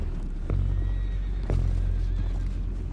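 Horses neigh and whinny in a Red Dead Redemption 2 gameplay scene, with hoof clip-clop and steady background ambience; two sharp onsets punctuate the fairly loud, continuous din.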